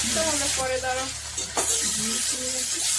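Chili chicken sauce is stir-fried in a pan, a continuous sizzle and a stirring scrape running beneath a voice that talks over most of the few seconds.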